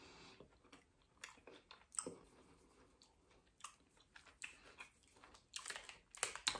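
A crunchy coconut-filled snack with a crisp outer shell and chewy middle, chewed close to the mic in a series of irregular crisp crunches and bites.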